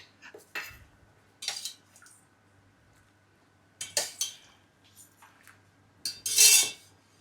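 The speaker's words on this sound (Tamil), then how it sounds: "அதே மாதிரி தான் சுடுதண்ணி ஊற்றி ஊற்றி ம்" Ragi (finger millet) flour being stirred with hot water in a bowl for roti dough, giving a few scattered scraping, clinking bursts of utensil against the bowl, moderately close, with quiet gaps in between.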